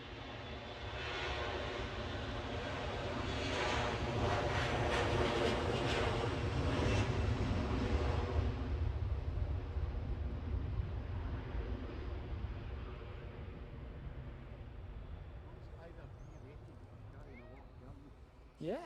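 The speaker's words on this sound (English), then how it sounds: "That was a long takeoff under that." A jet aircraft takes off at Edinburgh Airport, a loud sustained engine roar that builds, holds, then slowly fades into the distance, with voices talking faintly underneath.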